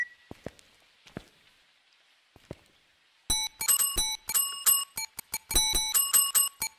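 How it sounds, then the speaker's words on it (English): A bell rung repeatedly inside the Phasmophobia video game, bright ringing strikes in quick uneven bursts, loud and close, following a few soft footsteps and knocks. "We'll ring the bell, get him to do something again."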